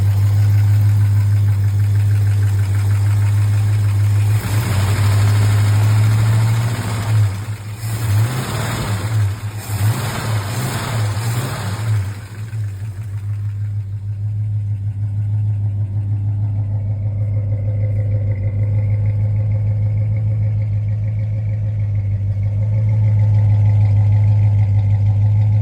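A 1962 Plymouth Fury with its original 318 V8 idles steadily with a deep, constant low rumble, loud and close, joined partway through by brief blips and revs before settling back to an even idle, no talk.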